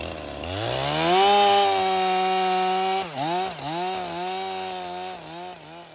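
A STIHL 500i chainsaw revving up and bogging into wood, its strong high whine steady and loud, then dipping and recovering in pitch as the chain bites through the cut.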